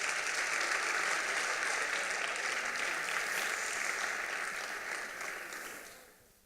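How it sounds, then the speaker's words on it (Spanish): A school debate tournament final audience claps steadily, fairly distant and uniform, before the applause fades away at the end. "Un aplauso, por favor."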